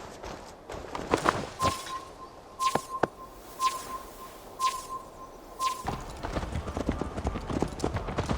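Horse hooves clip-clopping on the ground in Assassin's Creed Valhalla, a steady rhythmic trot with a soft ambient drone and occasional sharper clicks, close and moderately loud.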